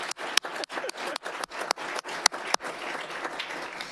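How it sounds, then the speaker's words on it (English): Applause from the audience at a school board meeting, a thin scatter of separate hand claps with irregular gaps, moderately close and fairly quiet, with no talking over it. "We'll clap anyway."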